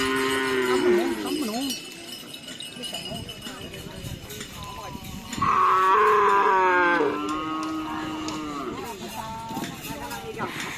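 Cattle at a Karapan Sapi bull racing event low and moo nearby, with one long, loud moo in the middle. Crowd chatter and people talking run underneath.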